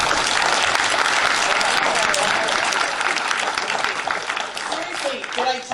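An audience at an event gives a round of sustained, dense applause, loud and steady before tapering slightly toward the end, with voices heard under the clapping.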